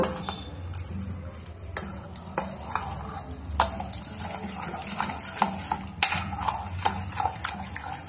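Leftover cooked rice is stirred with a little salt in a metal vessel, a spoon scraping and clinking in repeated strokes against a low background hum, close and fairly loud, with no talking.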